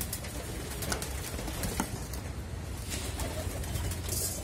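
Soft cooing of rare antique pigeons over a dense, constant background hiss of ambient noise, with occasional faint clicks and flutters.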